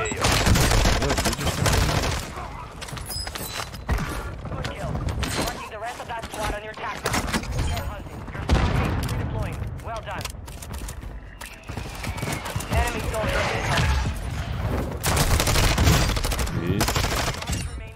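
Dense, continuous gunfire from the Warzone battle royale on the Al Bagra Fortress map, with rapid automatic bursts and overlapping shots that stay loud and close throughout, while voices sound underneath.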